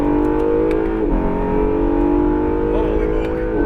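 An Acura NSX on a racetrack pulls hard under throttle, its engine note holding loud, steady and close with slight pitch shifts, while a voice speaks briefly over it.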